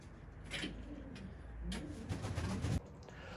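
Resting pigeons coo softly in a snowy-weather setting, with several low murmuring calls in two bursts and some faint rustling or shuffling close by.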